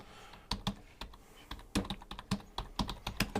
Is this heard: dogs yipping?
no